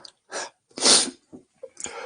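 A person lets out a sharp sneeze, preceded by a couple of quick inhaled breaths and followed by short breathy sounds, close and alone in a quiet room during a meditation session.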